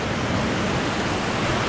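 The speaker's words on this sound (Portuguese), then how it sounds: "olha as ondas grandes aqui atrás" Big ocean waves break and wash continuously behind a clean Brazilian beach with rock crevices, a loud, dense, unbroken roar of surf with no voices.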